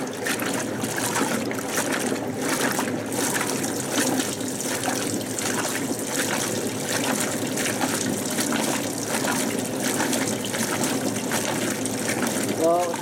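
Hotpoint Supermatic 9414A twin tub washing machine running a wash cycle, with steady sloshing and trickling water churning continuously and fairly close, while a person talks over it.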